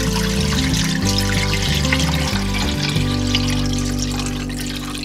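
Water poured from a 2.5-liter container into a bowl flows as a steady, continuous splashing rush for the whole stretch and eases slightly near the end, with no talking.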